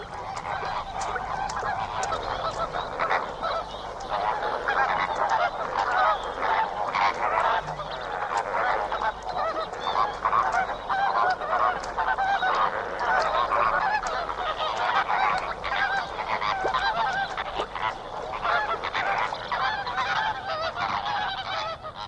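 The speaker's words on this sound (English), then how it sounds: "the greater flamingos head for this island, far from the shore, in the south of the pan" A large flock of greater flamingos calls continuously on a salt pan island, a dense, noisy chorus of honking cries that stays steady and loud throughout.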